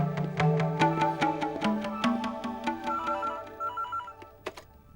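A telephone bell rings in a series of rapid, bright, metallic strikes that sound close, followed by a sustained ringtone that trails off into quieter beeps, with no voices.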